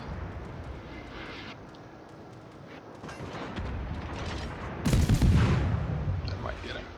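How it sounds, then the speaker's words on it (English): Naval gunfire in a warship video game, a rumbling barrage of distant cannon blasts with one louder, heavier boom near the end. "Maybe he can follow that up here with gunshots on Mitsuki."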